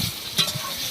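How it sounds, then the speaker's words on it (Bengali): Bay leaf and whole cumin tempering in hot mustard oil, a soft steady sizzle with a brief stirring scrape in the middle, close and short. "দিয়ে দিয়েছে সরষের তেল, তার মধ্যে তেজপাতা ফোড়ন দিয়ে দিল, গোটা জিরে।"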